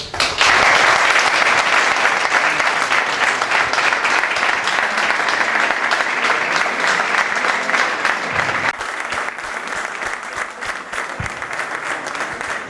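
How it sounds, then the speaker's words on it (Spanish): Sustained audience applause in a formal hall during a commemorative lecture ceremony, loud and dense from the start, easing slightly in the last few seconds but continuing steadily with no talk over it. "Pido en este momento simplemente que te volvamos a dar el abrazo y el aplauso que mereces"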